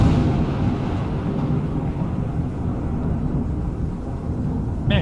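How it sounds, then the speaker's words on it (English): A heavy thunderstorm in the video game Fallout London, with steady dense rain and low rumbling roar filling the scene throughout at a constant loud level, with a brief brighter crackle near the end. "man, this is a nasty storm."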